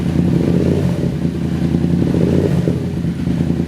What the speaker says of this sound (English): It's very happy to rev right up.